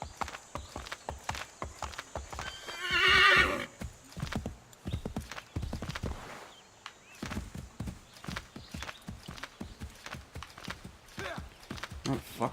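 A horse in Assassin's Creed III Remastered whinnies once loudly, with repeated clip-clop hoofbeats before and after, set against game ambience while someone talks over it.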